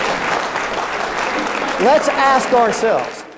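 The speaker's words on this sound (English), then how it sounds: "Let's give a round of applause for doing something for justice." An audience at a secular-government rally applauds in a dense, continuous wash of clapping, while a voice speaks over it toward the end.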